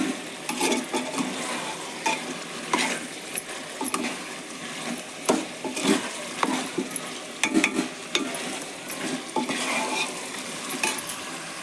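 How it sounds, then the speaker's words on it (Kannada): Chili powder fries in hot oil for a chicken gravy while a spoon stirs it nonstop. There is a busy sizzle with frequent scraping and clinking against the pan, close and fairly quiet. "ಈಗ ಎಣ್ಣೆ ಒಳಗೆ ಖಾರದ ಪುಡಿ ಹಾಕಿದ್ರೆ ಕಲರ್ ಮಸ್ತ್ ಬರ್ತೈತೆ"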